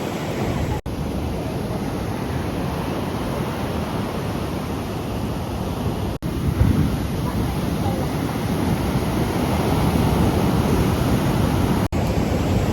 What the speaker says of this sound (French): On a les vagues, c'est trop.